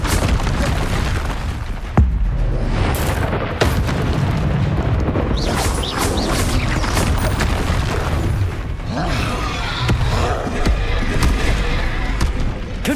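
Repeated spell blasts in a wizard video game, booming explosions and bursts layered over a continuous busy game soundscape, one sharp hit near the two-second mark and others following through the clip.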